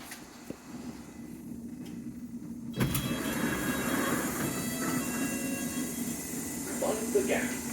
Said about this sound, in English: This is a Metropolitan line train to Aldgate.